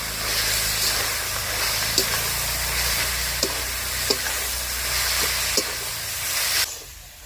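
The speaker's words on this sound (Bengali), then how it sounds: "নারকেলের পুরটাকে এবার অনবরত এরকম নাড়তে থাকবো" Grated coconut filling is stirred continuously in sugar caramel in a pan, with a steady hiss and sizzle, regular light taps of the spatula against the pan, and a sudden quieting near the end.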